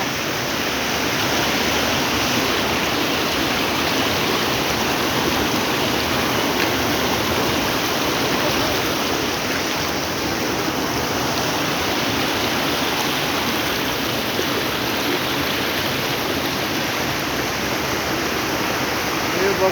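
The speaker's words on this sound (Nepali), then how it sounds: "यो सानो एउटा खोल्सी झर्दैछ।" A small mountain stream tumbles down a slope in a steady, close, full rush of water that holds at an even level throughout.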